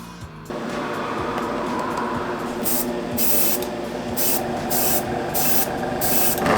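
A spray can hisses out a fine primer base coat onto a model blaster pistol, with several short bursts and longer continuous sprays close to the microphone and no talking.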